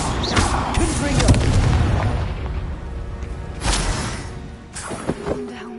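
Confringo blasting spell explosions in the Hogwarts Legacy video game, several deep booming blasts with crackling bursts, loud and close, spread over a few seconds.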